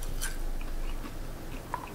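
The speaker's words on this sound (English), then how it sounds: "they offer a nice crunch." Crispy deep-fried habanero chili crisp with garlic and salt, packed in olive oil, being chewed up close: soft irregular crunching bites over a steady low background, with no talk.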